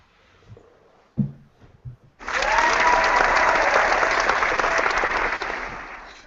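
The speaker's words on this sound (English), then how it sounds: "There's a little round of applause for Godzilla" A live session audience breaks into applause after a few seconds of quiet shuffling and a brief knock, a dense burst of many hands clapping that holds steadily for about four seconds.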